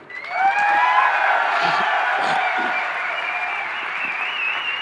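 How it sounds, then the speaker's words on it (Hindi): A crowd at a Vijay Rath Yatra rally in Kota claps and cheers loudly and steadily, with whoops and shouts over broadband applause that rises quickly and stays full for several seconds. "कितनी ताली बजनी चाहिए?"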